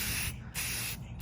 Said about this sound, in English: I clearly am trying to record and spray paint